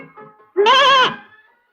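A young goat kid gives a single loud, close bleat lasting about half a second, wavering in pitch, after a brief stretch of quieter background sound.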